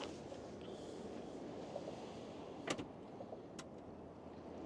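A Volvo EX40 power tailgate closes with a low motor hum, finishing with a couple of sharp latching clicks near the end, quiet and close.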